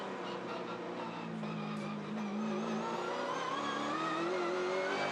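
Touring car accelerating around a race circuit in practice, its engine note rising steadily in pitch as it pulls through the gears, heard from a distance under a continuous broad roar of wind and track noise.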